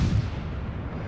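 A deep booming salvo from the front gun turrets of the Italian tier-5 cruiser Montecuccoli in World of Warships, one heavy low blast at the start that rumbles and fades out, no talking.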